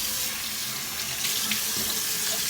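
Tap water runs steadily into a sink while an alum block is rinsed, a loud, even hiss and splash with small shifts as the block moves under the stream.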